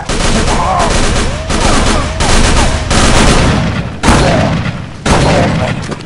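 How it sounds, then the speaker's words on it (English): A shotgun in the horror video game Call of Cthulhu: Dark Corners of the Earth, loud, heavy booming blasts repeating roughly once a second amid echoing gunfire and clatter, with no voices. "Did I just get 3 shots out of a shotgun?"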